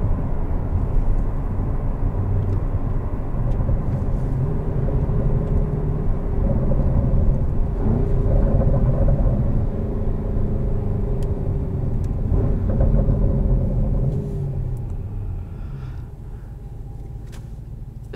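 A deep, steady engine rumble from a 2021 Porsche Cayenne GTS Coupe with road noise builds and holds while driving, then eases off toward the end; no voices.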